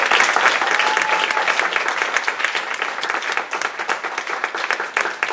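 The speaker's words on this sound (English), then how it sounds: "Why don't you guys give yourselves a round of applause?" Participants in a mock courtroom trial applaud together in a dense, steady round of clapping that stays loud and close throughout, with no talk over it.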